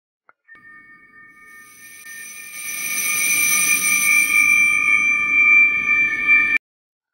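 A sound stretched by a factor of ten into a granular ambient drone swells from near silence into a dense, sustained shimmering tone with high ringing partials, then cuts off abruptly near the end.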